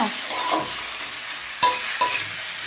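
Beetroot with onion and a spoonful of sugar stir-fried in a pan, a soft continuous sizzle with two sharp clinks of a spoon against the metal.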